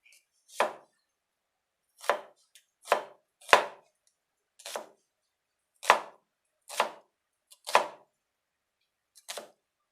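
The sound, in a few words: chopping onions with a knife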